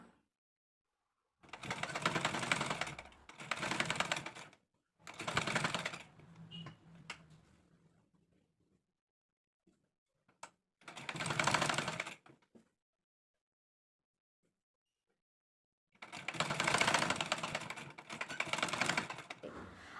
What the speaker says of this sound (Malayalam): ഇനി നമുക്ക് വീണ്ടും ആ ഒരു സെൻറ്ററിൽ നിന്ന് ഇങ്ങോട്ട് സ്റ്റിച്ച് ചെയ്തെടുക്കാം.